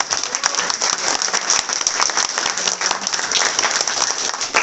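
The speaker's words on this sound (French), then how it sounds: "Vous pouvez également l'applaudir." An audience in a town festival hall at a political rally claps steadily, a dense, even wash of applause held at a constant level throughout.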